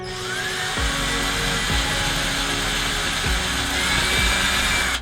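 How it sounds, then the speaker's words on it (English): Power drill boring holes through thin 1/8-inch luan wall panel inside an RV, a loud steady whine with several short surges and drops as the bit bites through, with no voices. "we need to put holes just through the luan."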